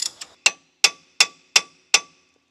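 A ratchet fitted with a pipe extension for leverage breaks loose a tight wheel lug nut: two soft clicks, then five loud, close metallic clacks in an even rhythm, each ringing briefly before fading.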